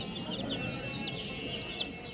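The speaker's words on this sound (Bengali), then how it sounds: "এগুলো হচ্ছে দশ দিন বয়সী টাইগার মুরগির বাচ্চা" Ten-day-old hybrid chicks peeping in a rapid, overlapping chorus of high chirps over a steady hum, fairly close and continuous.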